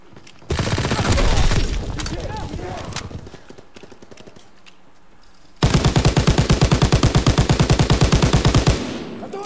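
Call of Duty WWII gunfire: a loud opening burst, a brief lull, then a long, even, rapid-fire stream of automatic shots, close and dominant.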